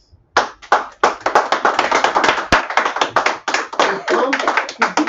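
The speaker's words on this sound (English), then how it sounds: "Applaud so much that your palms should be aching." Hard, sustained applause from an audience at an offline meeting, with dense bursts of clapping carrying on for several seconds, close and loud, with voices mixed in.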